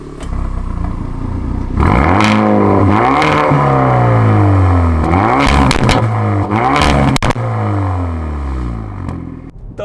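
Hyundai i30N Performance and Ford Focus ST hot hatchbacks accelerating through the gears, the engine rising in repeated revving sweeps with sharp crackles and pops from the exhaust at each gear change, loud and close.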